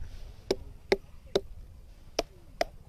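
Five dull knocks on a watermelon at an uneven pace, close by, each short and thudding with a faint ring.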